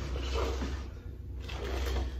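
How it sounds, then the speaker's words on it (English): A drawer of a Pokémon Sword and Shield Ultra Premium Collector's Box slides open, a soft scraping slide close by over a low background hum, with a brief dip partway through. "So we're gonna open the first drawer here."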